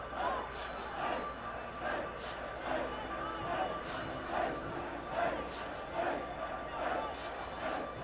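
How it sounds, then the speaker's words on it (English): A student crowd cheering at a high school football game, with a steady roar and rhythmic swells of chanting in the distance under an announcer's talk. "Student body's working hard to pump up these Eagles out here"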